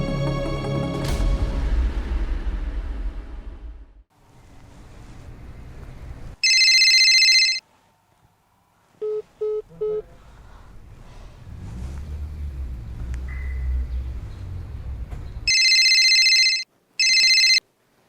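A telephone rings in loud, bright bursts, twice in one stretch and twice more later, with quieter rumbling and shuffling noise between the rings.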